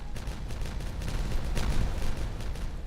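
Explosives detonating in the video game Timberborn, a steady rumbling series of blasts and crackling bursts that swells in the middle and holds loud throughout.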